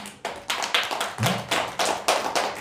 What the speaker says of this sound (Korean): 좀 박수를 쳐야지